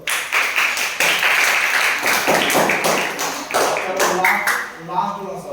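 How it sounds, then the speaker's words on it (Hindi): Classroom students clapping together on a teacher's cue, a loud, dense burst of hand claps lasting several seconds, close and steady, with some voices mixed in. "चलो ताली बजा दो।"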